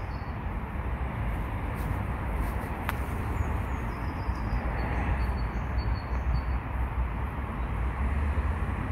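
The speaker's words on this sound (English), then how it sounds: "the train is departing now" A train departing at the Summer Road level crossing near Hampton Court, Surrey, heard as a steady, loud broadband rumble that holds evenly throughout, with no talk over it.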